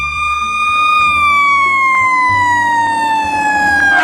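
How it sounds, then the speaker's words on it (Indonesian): A toy fire truck siren wails steadily and loud, its pitch sliding slowly downward, over a faint low rumble. "kalau yang ini mobil damkar"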